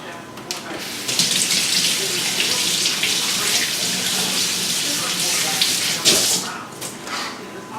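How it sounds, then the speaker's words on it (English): Hands are washed under a running tap while preparing meals, making a steady close gush of water with splashing that shifts as the hands move. The sound carries on for several seconds. "I'm going to wash my hands."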